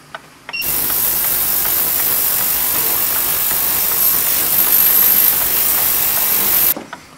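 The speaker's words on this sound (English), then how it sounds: "We'll take the parts out of the ultrasonic cleaner." An ultrasonic cleaner runs with clock parts from a Gilbert kitchen clock inside, switching on abruptly into a loud steady high hiss and buzz that holds for about six seconds before cutting off.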